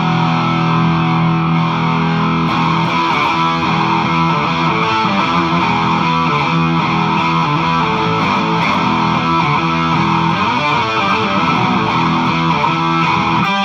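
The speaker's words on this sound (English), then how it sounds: "distortion, low octave." A Blackstar ID Core guitar amp plays heavy distorted riffs with a low octave effect, thick and loud and continuous with no talking.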